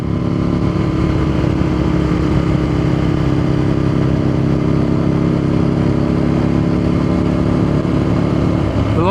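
An Aprilia sports motorcycle engine runs steadily and loudly up close, a continuous mid-pitched drone with a slight rise in revs near the end.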